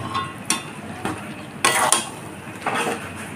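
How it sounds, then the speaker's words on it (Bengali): Boiled mung beans being stir-fried in a kadai over a low gas flame for egg tadka: a spatula scrapes and clinks against the metal pan in short, irregular bursts, close and moderately loud. "এখন গ্যাসটাকে লো ফ্লেমে রেখেই বেশ অনেকক্ষণ ধরে কষিয়ে নেব।"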